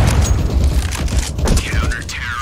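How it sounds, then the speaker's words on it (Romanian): A grenade blast in the game CS:GO, a loud booming explosion followed by gunfire and rumbling debris, close and dense, with voices talking over the action. "Throwing a grenade."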